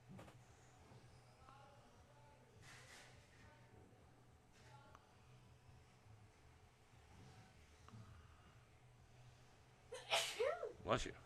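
A single sneeze bursts out near the end, loud and close over a steady engine drone and commentary during a live-streamed RC car race.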